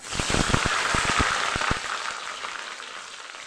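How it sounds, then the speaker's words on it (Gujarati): Hot oil crackles and sizzles loudly with sharp spits and pops as eggplant fries, easing into a softer steady fry toward the end. "આવી જ રીતે આપણે રીંગણાને પણ તળી લેવાના છે એટલે કે ફ્રાય કરી લેવાના છે"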